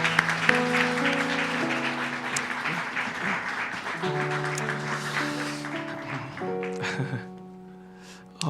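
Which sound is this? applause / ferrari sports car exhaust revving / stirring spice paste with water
applause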